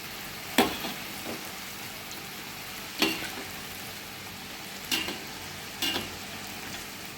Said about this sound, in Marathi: बाकीच्या मी गरम गरम तळणार आहे.